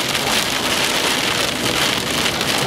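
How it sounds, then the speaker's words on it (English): Heavy rain pounds down inside a rain-wrapped mesocyclone during a tornado storm chase in Oklahoma, a dense, loud, unbroken hiss of drops striking a vehicle with no voices. "we're right in the rain-wrapped mesocyclone now"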